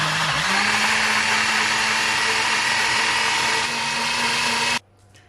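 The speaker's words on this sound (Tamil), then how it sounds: "இப்போ மிக்ஸி போட்டுக்கலாம்." An electric mixer blender whirs loudly and steadily while blending a strawberry and banana milkshake, the motor pitch holding level before cutting off abruptly near the end.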